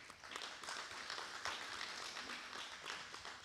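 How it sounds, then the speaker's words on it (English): An audience at the Anguilla National Elections debate applauds, a quiet, even patter of many hands clapping steadily throughout. "Give a round of applause,"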